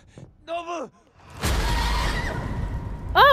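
A horse neighs in the Ghost of Tsushima video game, a loud close whinny with falling pitch, then a burst of noisy rushing sound and another neigh starting at the end.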